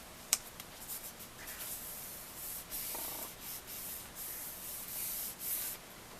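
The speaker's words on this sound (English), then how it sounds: "And then you want to burnish it really, really good, because you've got quite a few thicknesses here." Paper layers of a lay-flat coffee table album are burnished with repeated quiet rubbing strokes, close and soft, with a small sharp tap near the start.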